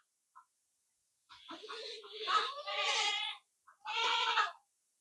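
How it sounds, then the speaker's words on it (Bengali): Black Bengal goats bleating close by, a short faint call followed by two longer, wavering bleats with a brief pause between them. "দেশি ছাগল তো, ব্ল্যাক বেঙ্গল দেশি"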